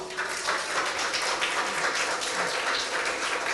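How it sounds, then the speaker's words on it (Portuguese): A ceremony audience applauding, a steady, fairly soft hiss of many hands clapping together at a distance, continuous with no voices standing out. "um aplauso para nosso website"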